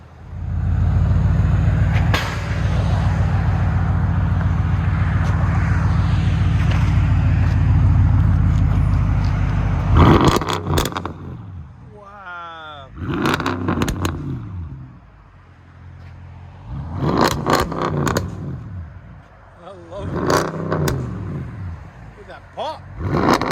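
An Audi with an X-pipe delete exhaust rumbles loudly and deeply at idle, then snaps through five or six sharp, separate revs, each rising and falling back, with a voice talking between them.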